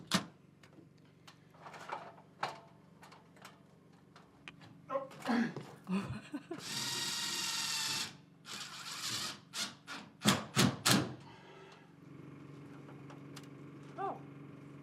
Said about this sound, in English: now let's go through and we'll hit this with screws